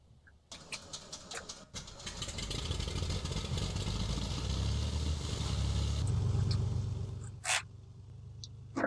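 Simulated piston engine of a Beechcraft A36 Bonanza in FSX firing up after start, a steady mid-pitched rumble that holds for several seconds, overlaid with clicks and short beeps from the cockpit, then quieting.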